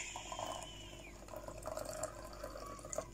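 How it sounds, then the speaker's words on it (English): Hot water poured gently onto a coffee mix of Café Troika and Red Yeast Coffee, a soft, quiet trickling and splashing of liquid, close and continuous with no voices. "so I gently pour my hot water on it."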